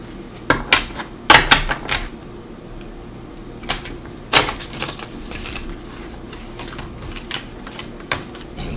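A deck of cards is shuffled by hand, giving a few sharp riffling bursts and taps spread over several seconds, close up and without talk.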